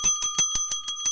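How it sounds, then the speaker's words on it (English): A bright bell rings in a steady series of seven quick, evenly spaced dings, close and loud, with a sustained tone underneath and no talking. "Time to start ringing the bell."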